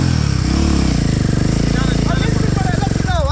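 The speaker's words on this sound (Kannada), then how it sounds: "ಏನೋ ಇಂಜಿನ್ ಸೌಂಡು" A motorcycle engine idles loudly and close while the bike is being washed, a continuous throbbing drone with a slight rise near the end and faint squeaks over it.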